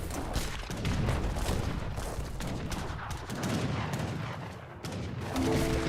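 Musket and cannon battle in Age of Empires 3, with heavy cannon, needle gunners and war wagons, a dense continuous barrage of overlapping gunshots and booming blasts, loud throughout with no pauses.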